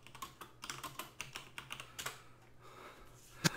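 Rapid, clattering keystrokes on a loud computer keyboard, close and uneven, with a sharper clack near the end and faint background hum.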